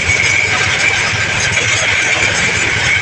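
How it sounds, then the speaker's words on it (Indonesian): A pellet machine for making pig, fish and chicken feed runs steadily and loudly throughout, a continuous mechanical drone with a strong low motor rumble and a bright whine on top, no voices. "sekarang ini mesin pelet"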